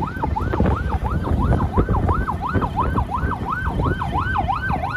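An ambulance siren wails in a steady, rapid up-and-down sweep on a Pakistani motorway near Mardan, loud and continuous over the rumble of passing road traffic.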